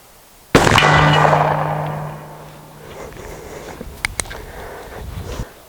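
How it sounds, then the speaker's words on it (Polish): A single sharp shot from a Derringer Unicorn pistol at an outdoor range cracks loudly and rings out in a long fading decay, followed a few seconds later by faint small clicks. "Dwa strzały na 20 metrów."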